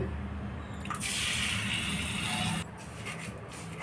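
Water pours steadily onto grated jaggery in a pan for making syrup, a broad rushing splash that swells louder midway and then eases to a softer trickle, with no talk over it.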